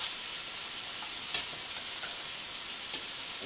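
Duck pieces browning in a frying pan before going into a casserole, a steady close sizzle with occasional stirring scrapes throughout.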